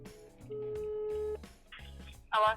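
A telephone call goes unanswered, with a steady ringback tone sounding in long pulses between gaps and a brief burst of other noise at the end, no voices over it.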